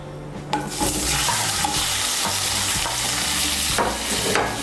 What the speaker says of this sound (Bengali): কড়াইতে যে তেল আছে এই তেলের মধ্যে আমি আলুগুলো ভেজে নেব